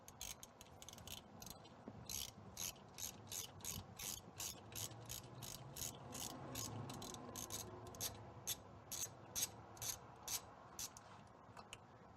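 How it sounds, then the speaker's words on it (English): A socket wrench ratcheting to loosen a car spark plug, a quick run of sharp, evenly spaced clicks repeating close by in short bursts, with soft rubbing underneath. "So you unscrew the spark plug like a regular screw."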